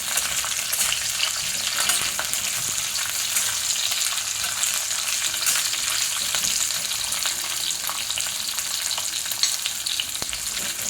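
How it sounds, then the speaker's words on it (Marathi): Green chilies fry in hot oil for an amla chutney, producing a loud, steady, crackling sizzle close up that holds unbroken throughout, with no voices. "हे मिरच्या टाकायचं आहे हे पण तेलात चांगलं फ्राय करून घ्यायचं"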